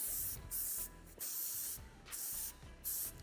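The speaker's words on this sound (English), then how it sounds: "now I'm using a bit of the dry texturizing spray" Dry texturizing hair spray is applied in four short, crisp bursts to fluff a ponytail during a salon styling session. Each hiss lasts about half a second and is separated by brief pauses with faint handling noise.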